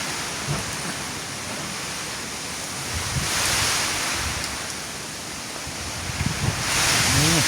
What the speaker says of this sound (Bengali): বৃষ্টি কম বাতাস বেশি